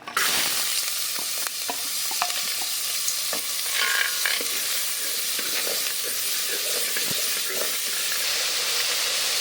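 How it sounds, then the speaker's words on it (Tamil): Steady sizzling and hissing of onions and tomatoes frying in hot oil for spinach sambar, with occasional stirring clicks and scrapes throughout; no voices. "இப்போ வெங்காயம் தக்காளி 2 ஒன்றா போட்டலாம்."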